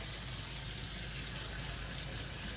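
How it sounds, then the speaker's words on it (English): Cool water poured over par-boiled Persian rice makes a steady, dense rushing hiss with no break, heard alone. "Pour the cool water on it."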